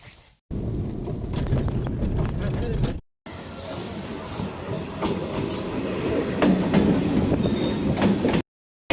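Steady train rumble and rattling wheel noise fill the ride, loud and continuous, with brief cuts to silence and occasional higher squeals and clatter over the low roar.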